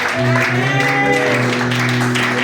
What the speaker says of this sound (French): Et sous vos acclamations, nous appelons Seigneur, Saint Pasteur Pauline Fanny